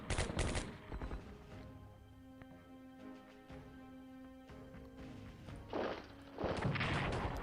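Defensive fortress guns at Singapore port fire in the World War II strategy game Strategic Command, with sharp gunshot bursts at the start and end and scattered cracks amid a quieter musical stretch, no voices.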